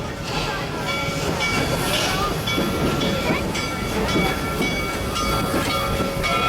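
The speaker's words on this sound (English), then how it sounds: "We are now entering into the Serengeti portion of our train ride." A tourist train at Busch Gardens Tampa rumbles and rattles steadily throughout, with faint voices in the background and a broad, continuous rolling noise.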